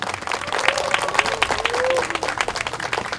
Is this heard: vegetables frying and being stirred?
no